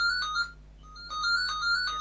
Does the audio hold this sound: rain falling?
no